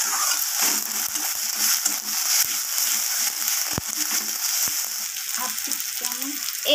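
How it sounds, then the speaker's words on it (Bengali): Spices frying with onion and tomato in a pan, a continuous sizzle broken by scraping stirs and a few sharp clicks of a utensil, with no talking. "দিয়ে এবার আমি পেঁয়াজ আর টমেটোর সাথে মশলাগুলোকে ভালোভাবে একটু কষিয়ে নেব।"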